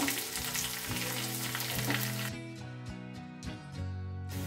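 Onions fry with popped mustard seeds in a pan for a Sri Lankan jackfruit curry, a steady soft sizzle and crackle throughout, with no talk over it.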